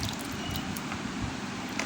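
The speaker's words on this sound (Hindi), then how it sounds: "सुपरमैन को नहला रही है अभी माल के ऊपर पानी डाल डाल के।" Water poured repeatedly over a Superman toy during a child's bath, a steady wet splashing and trickling that runs continuously at moderate level throughout.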